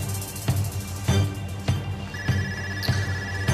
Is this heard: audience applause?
no